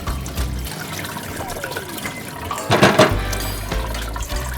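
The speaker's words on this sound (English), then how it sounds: "Take a pot. Rinse the potatoes." Running water rinsing potatoes in a cooking pot, a close, steady splash and trickle with a brief louder gush near the end, low rumbling underneath.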